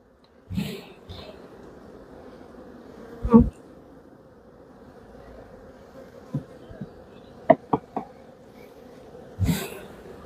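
Honey bees hum at a low, steady level from an opened hive, with occasional close knocks and clicks of frames being handled.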